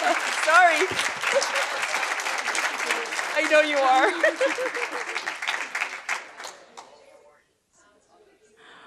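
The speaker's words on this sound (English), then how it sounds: "Everyone, please give our judges a big round of applause." Audience at a leadership institute graduation and membership recognition event applauds the judges, steady loud clapping from a crowd that gradually fades out, with a voice speaking briefly over it.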